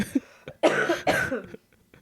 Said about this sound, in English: I'm getting over this cough that I have.